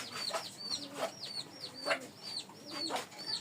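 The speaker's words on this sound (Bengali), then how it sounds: "মাশাআল্লাহ মুরগি" Chickens cluck in a repeated rhythmic pattern at a poultry and pigeon seller's home, fairly faint and close, with no talk over them.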